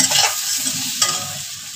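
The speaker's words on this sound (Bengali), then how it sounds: "আলুগুলো আমি ভেজে নেব, ভেজে নিলে ভালো লাগবে, ভেজে নিচ্ছি।" Potatoes frying in oil crackle with a loud, continuous sizzle up close, with a brief stirring scrape partway through.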